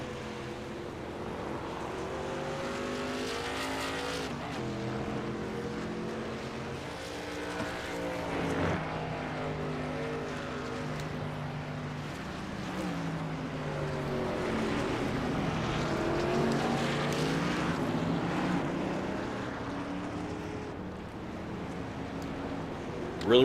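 Racing truck engines drone and shift pitch steadily in the iRacing video game on the Indianapolis road course, several trucks running together in a continuous loud roar with changing harmonics throughout.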